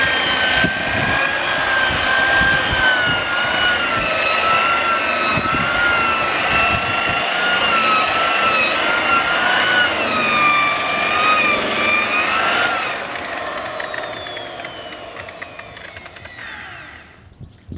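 An electric drill fitted with a lambswool polishing head buffs the glass fibre hull of a sailing dinghy, giving a steady, close motor whine for about twelve seconds before it winds down and fades.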